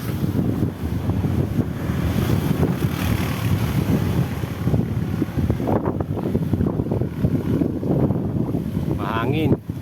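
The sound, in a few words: strong wind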